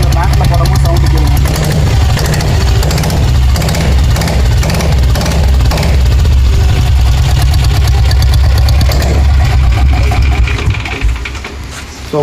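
A restored Royal Enfield diesel Bullet motorcycle engine runs loud and close with a steady, rhythmic knocking chug that holds throughout and eases slightly near the end.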